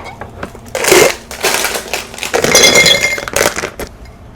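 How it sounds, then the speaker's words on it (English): Bars of baking chocolate set into a glass jar in a kitchen, giving a string of clinks and clattering knocks against the glass with rustling between, fairly loud and close, with no talk. "We've got these bars for baking chocolate, so I'll put them in this jar."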